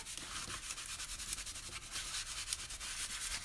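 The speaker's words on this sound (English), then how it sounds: "I'm just going to put a light coat of wax on here just to protect our transfer" Steady soft rubbing of a cloth applying a light coat of wax over a chalk-paint transfer on a painted wood leaf, a continuous close brushing texture with no voices.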